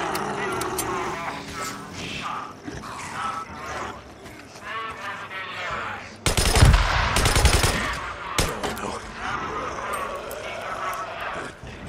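Bursts of gunfire in the Days Gone video game, a sharp loud volley midway through a busy stretch, while someone talks over game noise before and after.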